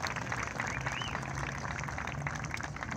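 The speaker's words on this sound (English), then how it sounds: "give them a round of applause" A crowd at a horse show at the Polo Grounds applauds the event's co-chairmen, a continuous even wash of clapping at steady level for the whole stretch.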